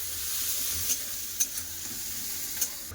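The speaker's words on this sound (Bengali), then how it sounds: "দিয়ে দেবো কেটে রাখা পেঁয়াজ একটু ভালো করে পেঁয়াজ ভেজে নেবো" Chopped onions frying in a pan for an egg and potato curry, a steady close hiss of sizzling oil with a few soft spatula scrapes and taps, no voices.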